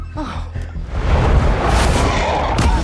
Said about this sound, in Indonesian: Saat ledakan akhirnya terjadi, hasilnya jauh dari harapan.